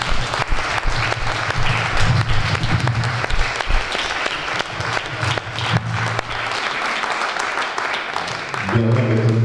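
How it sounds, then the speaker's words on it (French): An audience at a lecture event applauds loudly, continuous close clapping throughout with murmuring voices underneath and a brief spoken voice near the end. "Vous pouvez l'applaudir très fort"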